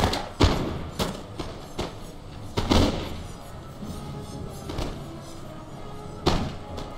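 Musket volleys trading fire in a Napoleon Total War battle between Portugal and Great Britain, heard as repeated dull thumping reports at irregular intervals, some sharper and louder, over a continuous rumbling battlefield din.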